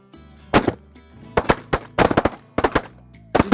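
Shotgun blasts fired at Canada geese on a hunt in Alberta, with several loud, close reports coming in quick clusters of two and three across a few seconds, and no talking.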